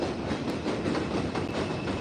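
A 2 line subway train passing at Castle Hill in the Bronx, a loud, steady rumble with rhythmic wheel clatter over the rails, close by and continuous without speech.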